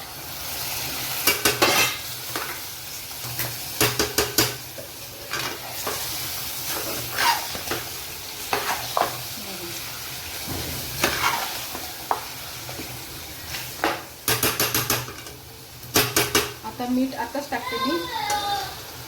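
Mutton going into cooked masala in a pot for mutton rassa, with repeated scraping stir strokes and bursts of sizzling, close and fairly loud, a voice speaking over it and a brief meow-like sound near the end.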